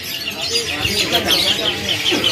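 Loper-series canaries of mixed colours and sexes chirping at a kiosk in Pramuka bird market, a dense, continuous chatter of tweets from several birds close by.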